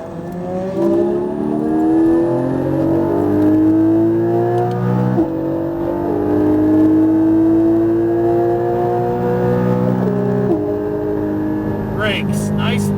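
A Porsche Cayman GT4 engine accelerating hard on a track, the rising harmonic pitch climbing through gears with two brief shift dips, loud and close from inside the car, with a voice talking over it.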